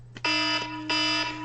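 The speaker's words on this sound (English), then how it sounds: "That was my alarm to tell me it was time to go fix my food" An electronic alarm set as a reminder to prepare food beeps in two long, shrill tones close by, with a steady hum underneath.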